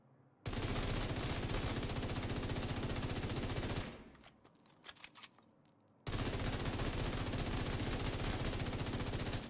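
Automatic weapon fire in The Division 2 video game comes as two long, dense bursts of rapid shots. Between the bursts are reload clicks and mechanical clatter.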